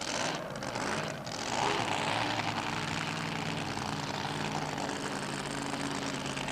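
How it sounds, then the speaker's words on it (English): A fully supercharged Chevy speedway engine burning methanol through straight-through exhaust pipes roars loud and continuous at a 1990 speedway meeting at Oxford Stadium, a steady racing drone with no talk. "A Chevy engine running on dope methanol and fully supercharged as well."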